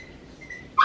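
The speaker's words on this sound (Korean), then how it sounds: "강아지가 슬프게 울고 있어요" A puppy lets out one short, high whimper, close and fairly loud, at the end of an otherwise quiet moment.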